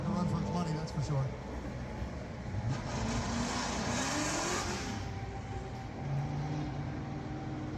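A car engine running and revving at a car show, a loud, continuous mid-pitched drone with rising and falling revs, heard up close.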